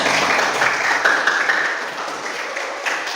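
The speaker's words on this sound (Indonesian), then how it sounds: "Beri tepuk tangan." A classroom of students claps for Group 1 after their presentation, a dense, steady patter of hands lasting a few seconds and fading slightly toward the end.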